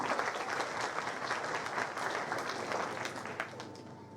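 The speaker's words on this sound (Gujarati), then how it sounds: "તો જોરદાર તાળીઓ પાડીશું" An audience at a school blood donation camp event for Republic Day breaks into sustained, dense applause from many hands, steady and fairly loud throughout before tapering slightly at the end.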